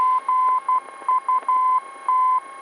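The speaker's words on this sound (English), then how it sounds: "this is what the Morse code should sound like right here" A navigation station's Morse code ident plays over an aircraft's nav 2 radio: a loud, steady tone keyed in short and long beeps with brief gaps, alone and close.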